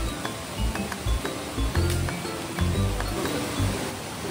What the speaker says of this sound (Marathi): भारी वाटाले आवाज पाण्याचा ते ना ऐकून